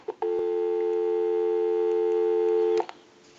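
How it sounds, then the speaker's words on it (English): A steady, continuous dial tone from a Western Electric Princess telephone sounds loud and close for about two and a half seconds, then cuts off with a soft click. "We'll give you some dial tone"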